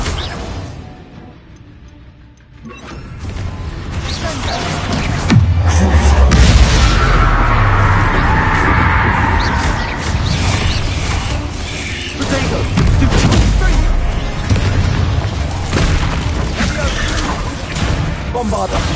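Bombarda spells exploding in Hogwarts Legacy, a dense continuous clatter of booms and magical impacts with a deep rumbling swell midway, while a voice calls out spell names over the noise.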